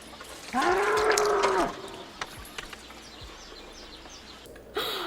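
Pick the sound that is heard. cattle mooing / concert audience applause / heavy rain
cattle mooing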